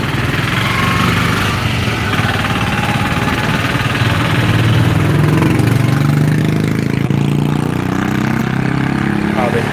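A thumping single-cylinder Royal Enfield Bullet motorcycle engine runs loud and close, a steady rumbling chug throughout with some background street noise in Amritsar.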